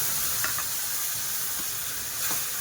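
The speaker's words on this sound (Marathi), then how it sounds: "कांदाही चांगला लाल होऊ दे. लाल होईपर्यंत परतून घेऊया." Onion with ginger-garlic paste sautés in a pan as a dense, steady sizzling hiss with faint stirring touches, close and even in level, with no voices.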